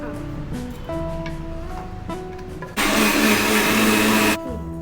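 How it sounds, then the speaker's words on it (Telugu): A kitchen mixer grinder blends sugar with curd for an eggless cake. It whirs loudly for about two seconds before stopping, and people speak over the quieter moments before it starts. "వేసి దానిలో ఆ షుగర్ వేసి ఇప్పుడు గ్రైండ్ చేయాలి."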